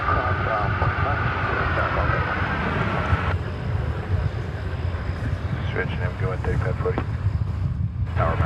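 American Airlines plane in US Airways Heritage livery at DFW Airport in the evening, a moderate jet engine roar mixed with gusty wind buffeting on the microphone.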